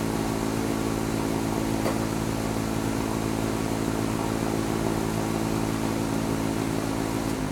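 A chainsaw engine runs steadily at a constant drone, a rough continuous buzz with no pauses and no voices.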